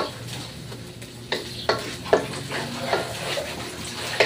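Chopped onions frying in a pan as the first step of a Filipino beef kaldereta, a steady close sizzle broken by a few sharper taps and stirs, with no talking over it.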